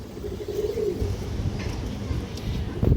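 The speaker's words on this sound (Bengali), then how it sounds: "এই যে দেখেন ইন্ডিয়ান একটা নাজরা কালদম নর কবুতর, খুবই চঞ্চল কবুতরটা" A restless male Indian Nazra Kaldom pigeon coos close by in a low, rolling burst over background noise, with brief chirpy sounds and a voice talking faintly nearby.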